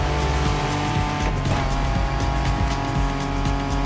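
A Ford Bronco drives through Oahu in The Crew Motorfest racing game, with a loud continuous engine drone, tyre noise and occasional squeal, and no speech.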